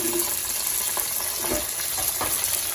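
Chanduva fish fillets frying on a hot tawa, giving a steady, loud, close sizzle with faint scrapes as pieces are turned, no voices.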